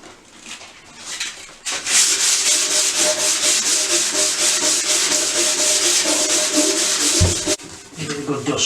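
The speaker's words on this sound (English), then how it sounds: "you can give it another light sand over with the P180" A metal radiator being hand-sanded with P180 sandpaper, a loud, close, continuous scratchy rubbing in quick strokes, starting softly and briefly pausing near the end.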